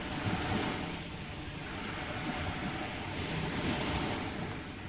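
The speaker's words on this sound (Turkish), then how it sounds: "Bir dakika dalgaların sesini bir alalım." Steady wash of sea surf breaking on a sandy shore at Özdere, Turkey, continuous and fairly loud, with wind rumbling across the microphone and no voices.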